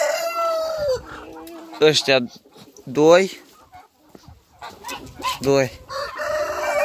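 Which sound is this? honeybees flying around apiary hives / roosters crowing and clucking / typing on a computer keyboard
roosters crowing and clucking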